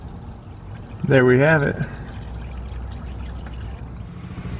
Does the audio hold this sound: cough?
no